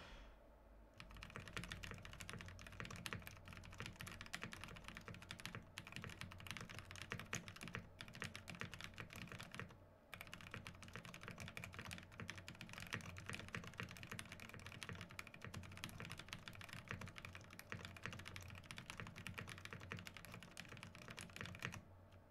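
Rapid, continuous clacking of a typing test on a cerakoted KBDFans KBD8x MKII keyboard fitted with Cream switches, close and steady for the whole stretch with only a brief pause partway through.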